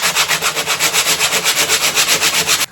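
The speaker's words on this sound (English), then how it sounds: "So I'm going to start with hand sanding, see how it goes." Hard wood guitar mould being sanded by hand, close and loud, with steady rapid back-and-forth rasping strokes, about seven per second, continuing without pause and with no talking.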